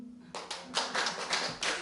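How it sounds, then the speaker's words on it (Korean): A church congregation breaks into clapping after a sermon exclamation, a short burst of several hands clapping in loose unison, fairly faint and brief. "박수"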